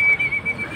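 Racing pigeon arriving at a loft during a fun race, heard as a short, close, high thin whistling tone pulsing in quick repeats with no talk.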